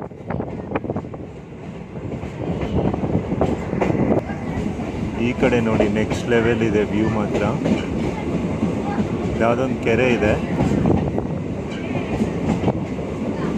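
A DEMU train on the Kolar–Yelahanka line rumbles along the rails with rhythmic clattering, steady and close, while a person talks over the noise.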